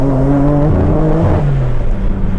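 A fast car on a race track, engine droning loud and close with clear stepped gear changes as it pulls through the revs, no voices.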